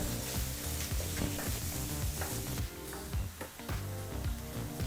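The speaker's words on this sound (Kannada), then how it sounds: "ಈರುಳ್ಳಿನ ಮೂರಿಂದ ನಾಲ್ಕು ನಿಮಿಷ ಮೀಡಿಯಂ ಫ್ಲೇಮಲ್ಲೇ ಚೆನ್ನಾಗಿ ಫ್ರೈ ಮಾಡ್ಕೋಬೇಕಾಗುತ್ತೆ" Chopped onions fry in a pan over a medium flame, giving a steady, loud sizzle with clinking and scraping as they are stirred, with no talking.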